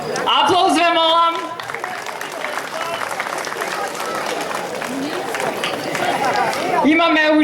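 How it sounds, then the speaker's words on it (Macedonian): At a village festival gathering in Rusinovo, an audience breaks into sustained, dense applause that swells through the middle, framed at the start and end by someone talking over a loudspeaker. "Аплауз ве молам."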